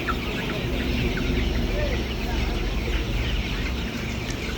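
A flock of chickens clucks and murmurs continuously in an enclosed poultry farm shed, with a low steady hum underneath and scattered brighter calls.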